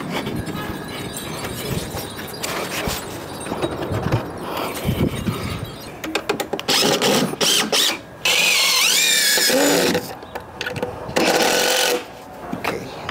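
Power tool driving lag bolts into a pergola frame, a loud whirring drive that speeds up and strains in long bursts with short pauses between, close to the listener, with no talking.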